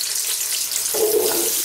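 Chopped garlic drops into hot olive oil in a big soup pot, and a steady hiss of frying swells into a fuller sizzle partway through, close and fairly loud.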